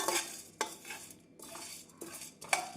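Chana dal dry-roasted in a pan over medium flame makes a soft rattling rustle, with a few separate scraping stirs and light metallic knocks of the spoon against the pan.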